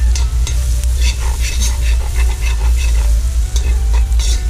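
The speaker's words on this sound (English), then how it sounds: "Let that fry up." Onion, garlic and pimento fry in a pot with a loud, steady sizzle and crackle, close up, as a spoon stirs and scrapes through the mix.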